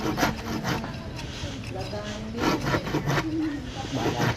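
Rough back-and-forth rasping of a hand saw through wood, steady and close, with a voice talking over part of it.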